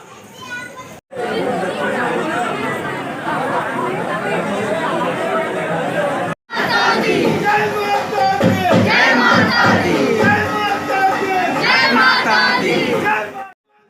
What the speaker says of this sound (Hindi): नीचे तो भीड़ नहीं थी लेकिन ऊपर भीड़ काफ़ी लग रहा है